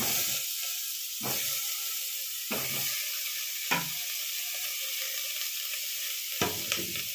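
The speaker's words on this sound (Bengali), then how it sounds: "পেঁয়াজটা নাড়িয়ে নিয়ে আলুগুলো দিয়ে দেবো।" Onions frying in a pan for chicken stew, a constant close sizzling hiss broken by several distinct scraping stirs at irregular intervals.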